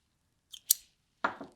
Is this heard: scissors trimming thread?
yes